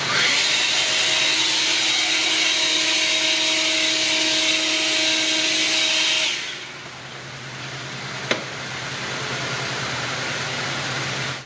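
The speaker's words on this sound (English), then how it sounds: "So our new Stubby Ego blower." An EGO Stubby 56V 580 CFM cordless leaf blower runs at a loud, steady whooshing roar with a faint whine, then drops to a lower, softer hum partway through, with a brief click near the end.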